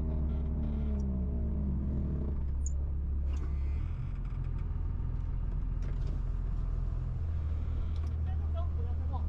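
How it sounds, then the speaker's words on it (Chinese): Vehicles stand idling in a traffic jam near a mountain tunnel where a truck has caught fire, a low, steady engine rumble close by with a faint passing swell, a voice heard briefly early on. "哇塞，堵车嘞！ 前面大概发生交通事故了。"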